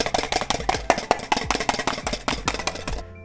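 A whisk beats meringue in a bowl for a moon pie, giving a fast, steady run of close, loud rhythmic strokes with a bright clatter that stops abruptly at the end.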